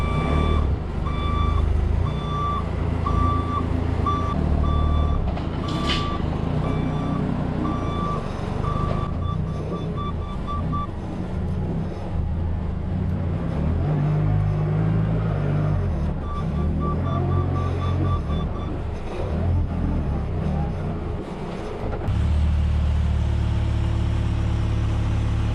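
A lifter machine being driven emits steady, repeating reversing beeps over a low engine rumble that runs throughout.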